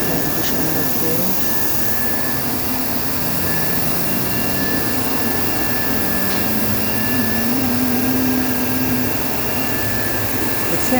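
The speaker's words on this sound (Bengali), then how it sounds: "দেখছেন কি সুন্দর প্রিন্ট আমাদের বিউটি মেশিনে অ্যাক্রিলিক প্রিন্ট" UV printer printing on acrylic: a continuous loud mechanical whir with a steady high whine that runs throughout, carriage tones shifting slightly underneath.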